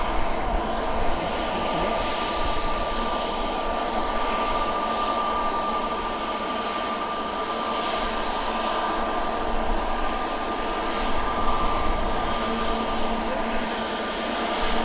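Jet2 Airbus A321neo jet airliner landing at Manchester, a steady distant engine roar with a sustained whine, continuous and even for the whole stretch, with no talk over it.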